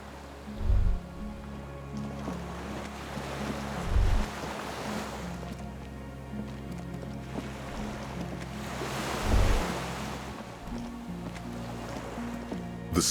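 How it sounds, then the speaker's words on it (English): Waves rocking a skiff by a dock in the game Disco Elysium, with a continuous wash of surf and water swells rising and falling, plus low rhythmic thumps from a musical score underneath. "The skiff is swaying on the waves by the dock."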